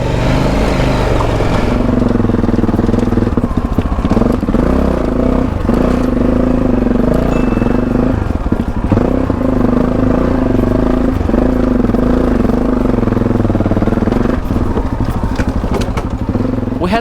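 A Yamaha Tenere adventure motorcycle rides a trail on the Trans Euro Trail in France, its engine droning loud and steady close to the mic, with clattering and knocks from the rough ground throughout.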